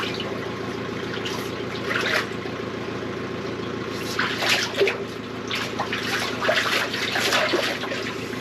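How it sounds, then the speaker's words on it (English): Water running through a drain chamber after jetting, a continuous trickling flow with gurgling bursts that swell louder toward the end. "You can probably tell the water levels starting to run a bit quicker"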